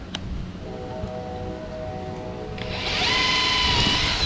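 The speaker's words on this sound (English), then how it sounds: "get to drilling" A power drill spins a 1/8 inch bit into a mount on a Redcat Kaiju RC truck body, with a steady whine that rises in pitch and loudness partway through as the bit bites in.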